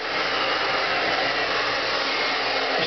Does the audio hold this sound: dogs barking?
no